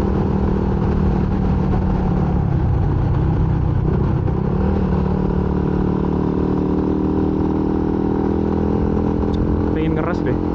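A motorcycle ridden on a long touring road over rough, rolled-up asphalt, its engine droning steadily and loudly with wind rush throughout, as a voice talks over it.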